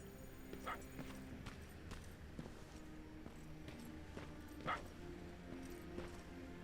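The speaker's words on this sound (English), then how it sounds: "I can hear the dog" A dog barks from somewhere close by in the video game Terminator Resistance, two short yelping barks about four seconds apart rising over a steady low ambient hum and faint background clatter.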